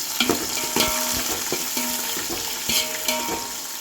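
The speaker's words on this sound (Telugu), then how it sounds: "ఉల్లిగడ్డలు పచ్చిమిరపకాయలు రెండు అయితే వేసేస్తున్నాం గోల్డెన్ కలర్ వచ్చేంత వరకు" Sliced onions and green chillies sizzle steadily in a pan for chicken biryani, with a spoon scraping and stirring at irregular intervals over the continuous frying hiss.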